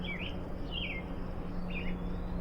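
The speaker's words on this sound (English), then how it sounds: "I have a cardinal, been bothering me all day" A northern cardinal at a bird feeder gives three distinct downslurred chirping calls spaced about half a second apart, clear and fairly close over a steady low hum and faint background noise.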